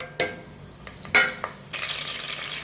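Curry leaves and four green chilies hit hot oil in a pan with a few sharp clicks of a utensil, then a steady broad sizzle swells up and holds, fairly close with no voice.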